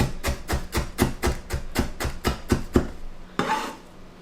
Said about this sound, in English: Finally, chop the chilies if you are using.